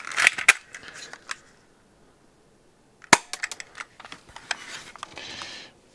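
An airsoft gun fires 6 mm BBs through a chronograph, sharp cracking shots close by, one burst at the start and another after a quiet gap, with clicks and rattles between.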